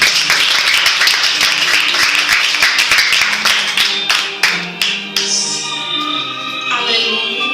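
Energetic applause from a church congregation welcoming a woman preacher, loud and rhythmic at first, then thinning into scattered claps as instrumental music and sustained tones take over.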